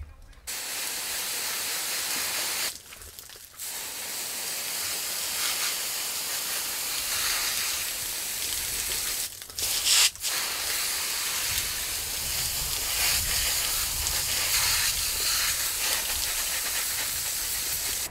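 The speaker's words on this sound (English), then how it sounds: "I'm gonna come in the greenhouse and spray the water out" Water sprayed hard through a dirty greenhouse fan gives a loud, steady hiss that runs nearly the whole time. It breaks off briefly twice, around the third and tenth seconds.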